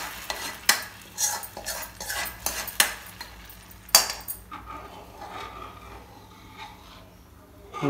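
A spoon stirs a thickening Madugula halwa mixture with syrup in a pan, a run of sharp clinks and scrapes against the metal at an uneven pace, then softer bubbling and stirring, close up with no voices.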